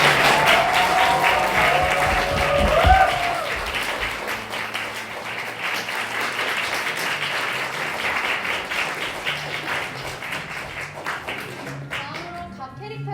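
Audience at a spring student theatre performance applauds warmly, dense sustained clapping filling the room for many seconds, with a few brief voices mixed in before it fades.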